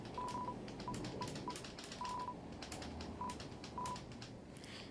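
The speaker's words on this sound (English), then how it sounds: "if you know the sound from the cell phone there" Cell phone dialing tones in the video game Deltarune, a series of short electronic beeps in an uneven rhythm over faint clattering noise, quiet overall, with no talking.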